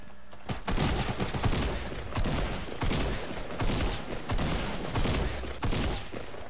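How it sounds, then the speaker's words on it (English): Sustained video game shooter gunfire near a brick house with a chimney, with dense overlapping bursts of shots rattling continuously and loudly throughout. "we're getting shot at"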